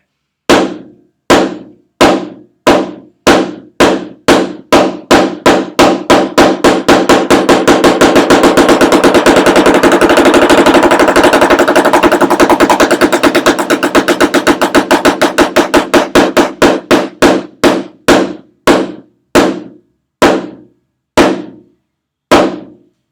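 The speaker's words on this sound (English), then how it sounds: "another example of the slow, fast, slow for single stroke roll" A snare drum single stroke roll starts with slow separate hits, speeds into a dense continuous roll, then slows back to spaced strokes.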